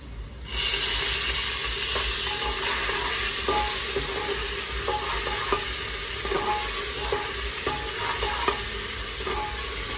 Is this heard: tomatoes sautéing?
yes